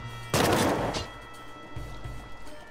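A gun fires in a survival video game: one loud, sharp shot bursts out close and rings briefly, then fainter dull thuds follow.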